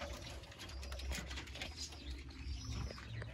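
Racing pigeons coo softly in a loft, low murmuring calls repeating under a busy, noisy background with faint rustling and scattered higher chirps.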